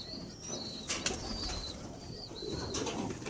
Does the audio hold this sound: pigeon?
yes